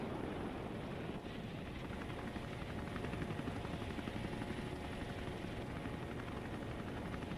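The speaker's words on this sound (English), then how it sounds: "They really choose a good fighting, like a fighting helicopters, fighter planes." Military helicopters flying over the Russian Victory Day parade in 2020, a steady, loud rotor and engine drone that fills the whole stretch without break and with no voices.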